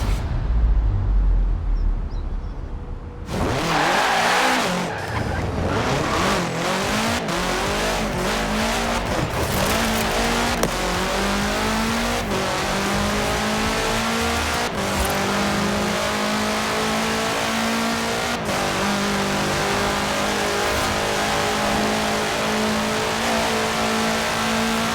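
A 1966 Volkswagen Beetle fitted with a 2.5-liter F4 turbo engine, in the Forza Horizon 4 racing game, roars as it accelerates hard, its revving engine climbing steadily through gears with brief tire squeal, loud and continuous throughout.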